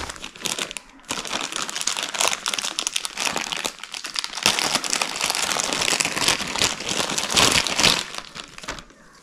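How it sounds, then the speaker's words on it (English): Plastic merchandise packaging from a Rilakkuma anniversary tour being opened, a dense, continuous close crinkling and crumpling with short pauses, loud and alone without speech. "So I'm just gonna open the RILAKKUMA one."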